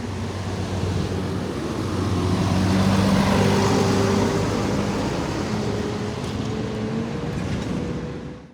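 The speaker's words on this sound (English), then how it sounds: "The sound of a wheezing bus explains the crumbling road." A bus wheezes along a crumbling, fragmented tarmac road, a low droning engine rumble with tonal whine that swells in the middle and fades away, steady and moderately close.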